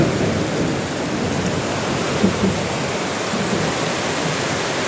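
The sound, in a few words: heavy rain falling on a ship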